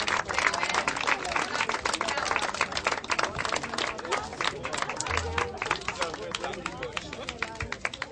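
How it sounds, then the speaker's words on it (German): Audience at a sports event giving a big round of applause for a participant, steady dense clapping with crowd murmur throughout, fairly distant. "ein riesen Applaus"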